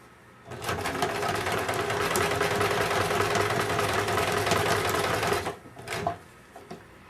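A sewing machine stitches around the edge of a handmade journal. Its motor runs as a loud, steady, continuous whir for about five seconds, then stops, followed by a few faint clicks.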